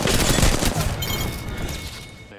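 Gunfire from an enemy squad in the video game Apex Legends, a dense burst of rapid shots and booms, loud and close at first, then thinning out.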